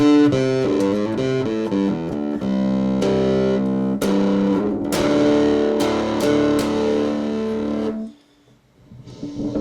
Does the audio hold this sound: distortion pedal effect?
yes